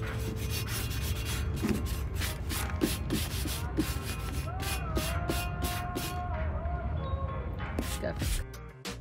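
A street-found item's surface being scuffed up by hand, giving repeated scratchy rubbing strokes close by in an uneven rhythm, with bits of background noise.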